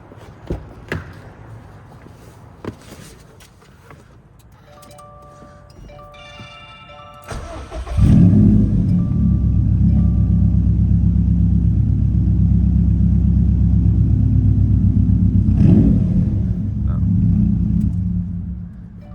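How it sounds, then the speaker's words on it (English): Scattered clicks and a brief beeping, then a modified Subaru WRX STI engine cranks and catches, settling into a loud, steady idle rumble with a small rev near the end. "I'll start the car to see how annoying it is"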